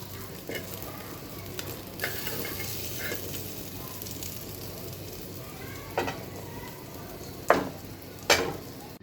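Fish and onions frying in oil, a steady low sizzle throughout with several sharp utensil clinks and scrapes toward the end as pieces are lifted out.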